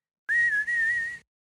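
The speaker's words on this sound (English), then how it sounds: "Your weird whistle thing." A person whistles a single sustained, slightly wavering high note that breaks briefly in the middle, close and clear with no talking around it.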